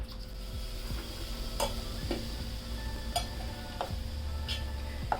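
Batter-coated vadas for Mumbai vada pav dropped into hot oil, a low steady frying hiss with several sharp clinks of a spoon against the pan at irregular intervals, close and fairly quiet.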